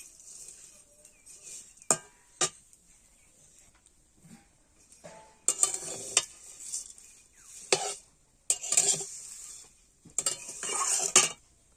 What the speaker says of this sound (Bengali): এবার ভেজে নেবো আস্তে আস্তে লাল লাল করে